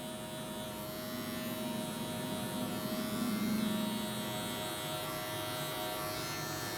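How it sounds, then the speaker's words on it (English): An electric hair clipper buzzes steadily during a gentleman's comb-over haircut at a barber, a constant close-up hum with a slight rise as the blade works through the hair. "using a corner of my actual clipper blade to just go up and just take some of that bulk area out of there"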